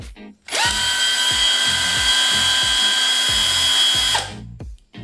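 A cordless impact wrench set to its small, lower-power mode runs in one continuous burst of about four seconds, a high whine over rapid rhythmic hammering knocks, loud and close, stopping abruptly with no talk over it.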